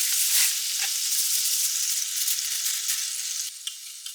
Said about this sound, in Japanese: アスパラをひっくり返したら料理酒を加えて蒸し焼きにします